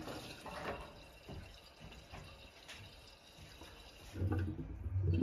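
Faint trickling and dripping water at first, then a louder gush of water rushing through the drain pipe of a clogged toilet toward the end.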